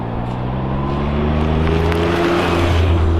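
Steady engine drone and road rumble inside a small Autozam AZ1 kei car on the move, a constant loud hum with a faintly rising pitch and no talking.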